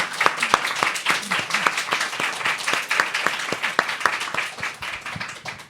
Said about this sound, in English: ask you to help me thank and praise Janet Malcolm for joining us.